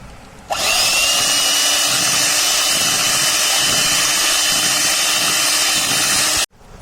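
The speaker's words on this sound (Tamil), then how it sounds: "இப்போ மறுபடியும் எல்லாமே சேர்த்து நான் பீட் பண்ணிக்கிறேன்." An electric hand mixer beats cake batter with ground coconut and vanilla essence for a coconut rava cake, running as one loud, steady motor whine close by for about six seconds, switched on and off abruptly.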